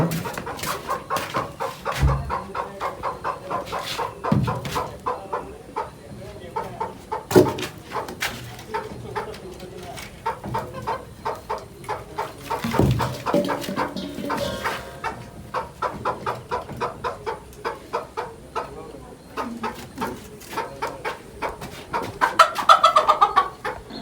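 Chickens clucking and cackling continuously around the listener, with occasional louder squawks and a rooster-like call, no talking.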